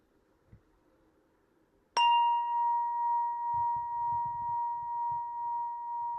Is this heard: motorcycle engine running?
no